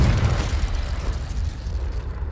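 A Confringo explosive spell in Hogwarts Legacy goes off as one dense, rumbling blast that sustains for about two seconds before fading slightly.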